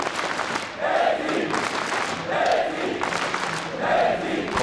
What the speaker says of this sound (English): Polish crowd showing their appreciation for these 2 players.